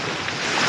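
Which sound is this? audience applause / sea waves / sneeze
sea waves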